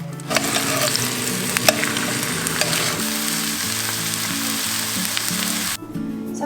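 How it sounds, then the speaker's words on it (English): Turkey warming in a frying pan alongside stir-fried rice and sauce, a loud continuous sizzle and crackle up close with spatula scraping, fading slightly near the end. "This turkey, I'm gonna warm it up in a pan"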